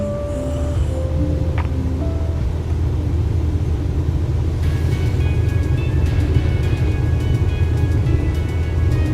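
A DC aircraft's engines roar loud and steady through the takeoff roll, a dense low rumble that holds throughout, with a higher tonal whine rising partway through as power builds.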